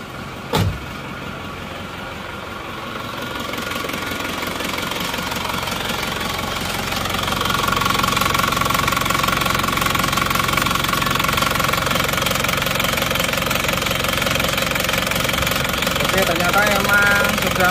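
A cold Isuzu Panther diesel engine with worn piston rings idles with a loud, steady knocking rattle, starting after a sharp click and growing slightly louder and rougher as it runs.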